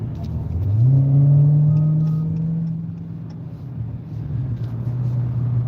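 A car passes close by on the road, its engine rumble and tyre noise rising loudly and then fading. Steady traffic drone continues behind it.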